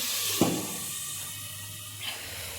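Spices fry in a pan with a steady, close sizzling hiss that runs throughout, with a couple of brief clinks or stirs on top and no talking.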